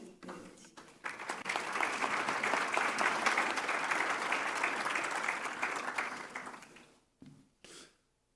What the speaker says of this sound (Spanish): vamos a saludar con un caluroso aplauso también a Luis Llano Zuleta, gerente general de ISA